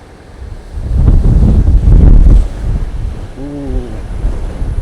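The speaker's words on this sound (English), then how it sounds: "Very windy here." Strong sea wind buffets the microphone on the rocky coast of Orchid Island (Lanyu), Taiwan, a loud rumbling gust building for a couple of seconds, then easing into steadier blustery noise with surf in the background.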